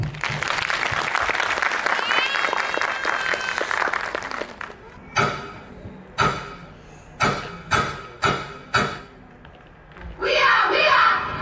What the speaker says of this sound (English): So big clap.